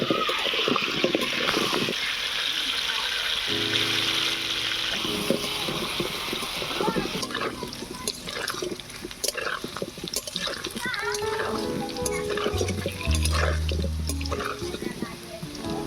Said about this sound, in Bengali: অল্প একটু নুন দেব, হলুদ দেবো না, শুধু নুন দিয়ে আলুটা ভেজে নেব।